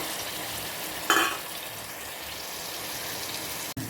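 Ginger, garlic and green chili paste hits hot coconut oil with a sharp sizzling burst, then settles into a steady frying hiss. A brief clatter comes near the end.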